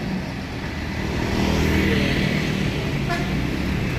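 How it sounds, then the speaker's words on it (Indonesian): Hino RN 285 bus pulling away at a bus depot in Wonogiri, a steady low engine rumble that swells slightly as it departs, heard nearby over outdoor background noise. "Hino RN 285 berangkat dengan JB3-nya."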